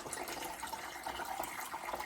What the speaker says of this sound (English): we're gonna take some water and we're gonna put it in our pressure canner just about to the midline